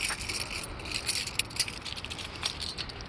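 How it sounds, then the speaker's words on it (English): A big bunch of keys on an overloaded keychain jangles and clinks near a 1999 Suzuki Marauder 800 motorcycle, bright metallic rattles in several quick bursts close to the listener, with no talking. "Way too many keys on this keychain."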